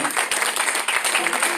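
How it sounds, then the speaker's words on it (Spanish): A church congregation at a Sunday service applauds in welcome, a dense patter of many hands clapping, fairly close and lively, with some voices mixed in. "Eso es un aplauso de bienvenida otra vez."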